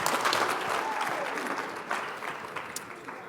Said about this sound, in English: let's give a 2-clap to Eddie Perez